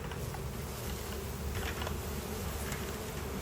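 Honey bees buzz in a continuous, dense, fairly quiet drone during a hive inspection, with no voices heard.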